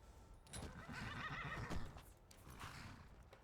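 A horse in Skyrim neighs in a loud, quavering whinny lasting about a second and a half, followed by a few soft hoof clip-clops and quieter rustling, with no voices.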